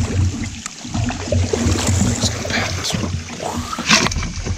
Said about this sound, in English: I've been paddling longer than last time